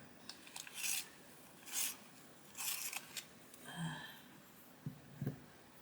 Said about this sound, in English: I'm just going to sharpen this. It's a dark indigo.